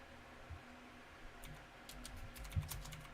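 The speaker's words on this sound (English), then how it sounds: "I'm typing terrible" Faint typing on a computer keyboard, scattered soft key clicks that pick up into a quicker cluster toward the end over a quiet background hum.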